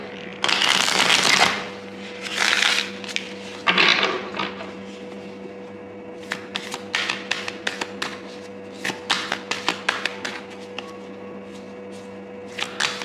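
Tarot cards being shuffled by hand: long riffling bursts early on, then a run of short, crisp card taps and flicks, close and fairly loud, with no one talking.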